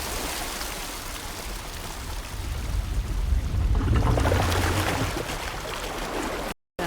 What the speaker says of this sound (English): Now we've got water running down both sides.